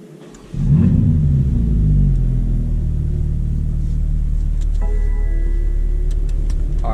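A Stage 1 tuned BMW G80 M3 engine fires up with a sudden loud burst, then settles into a deep, steady rumbling idle close by. A faint whine joins later, with no voices.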